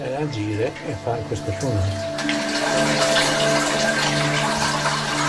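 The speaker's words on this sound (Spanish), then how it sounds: "Galerías excavadas en las que se oye el constante sonido del agua" Steady rushing water fills an excavated underground tunnel with a constant, loud flow, while a voice speaks over it at first before the water noise takes over alone.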